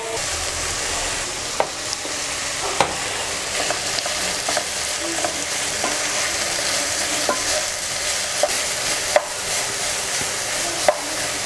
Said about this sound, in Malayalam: ചോപ്പ് ചെയ്ത് വെച്ചിട്ടുള്ള ക്യാബേജും കൂടി ആഡ് ചെയ്തിട്ട് നമുക്കിതൊന്ന് അടച്ചു വെച്ചൊന്ന് വേവിച്ചെടുക്കാം